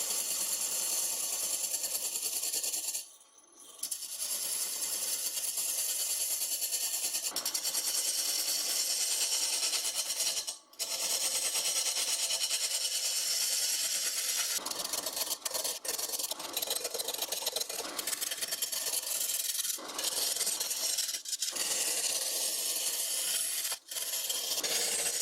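Gouge roughing down wood to the hardwood: a continuous rasping scrape that keeps going for about 25 seconds, broken by a few brief pauses and sharp knocks.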